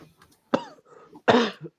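Several sharp, close coughs in quick succession, the last ones harsh and forceful, with quieter throaty sounds between them.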